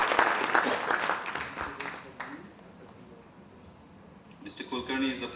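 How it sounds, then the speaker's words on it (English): Audience applause at a panel introduction during a business discussion event, clapping loud at first, fading away, then a fresh burst near the end, with a voice talking over part of it. "Can we have a better applause?"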